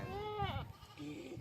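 A goat bleats in two wavering, tonal calls, close and fairly loud, with the second shorter and lower.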